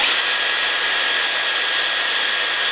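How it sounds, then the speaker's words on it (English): Power drill boring out holes in wood, a loud, steady high-pitched whine that holds constant for the whole stretch with no pauses. "So what I'm going to do is enlarge these holes with a drill."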